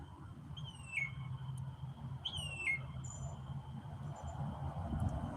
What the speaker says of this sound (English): listen to the bird.